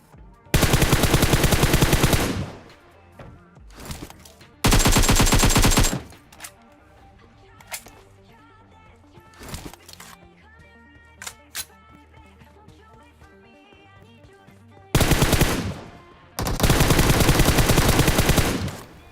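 Automatic-weapon bursts in the mobile battle-royale game PUBG Mobile: loud sustained full-auto strings in several volleys, with sharp single shots, clicks and game sounds in the quieter gaps between.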